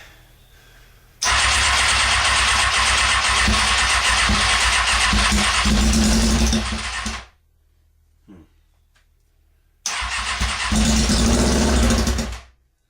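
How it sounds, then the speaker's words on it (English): A Kawasaki ZX6R motorcycle engine, choked, cranks and catches, running loud and rough for several seconds, cutting out, then firing again for a shorter burst. "I can get down there and choke it and crank"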